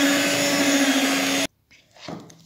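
An electric mixer whirs steadily through cake batter for a second and a half, then cuts off abruptly, leaving faint kitchen handling noise.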